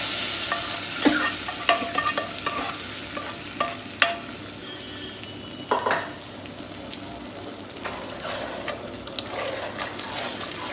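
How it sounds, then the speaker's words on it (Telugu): A hot spice tempering is stirred into toor dal with raw mango in a pot, with scraping spoon strokes and clinks over a continuous soft sizzle, close and steady with a few louder knocks. "మన పప్పులో అయితే పోపు వేసుకుని కలుపుకోవాలి"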